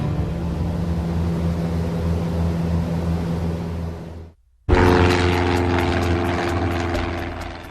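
A propeller airplane drones loudly in flight with a steady engine hum. The sound cuts out briefly near the middle, then returns just as loud and continues to the end.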